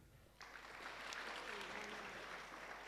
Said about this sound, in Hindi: आप अपने लिए ताली बजाइए।